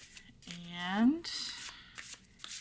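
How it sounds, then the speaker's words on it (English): A deck of Pulp Tarot cards is riffled in a short shuffle, a quick close flutter of cards. A speaker talks at the same moment. "let's see how these babies shuffle. We're just gonna, we'll just do a little shuffle like this"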